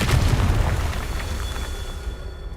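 A Confringo blasting curse explodes in Hogwarts Legacy, a heavy close boom with deep rumble that rolls on and slowly decays across the whole moment, with light crackling debris.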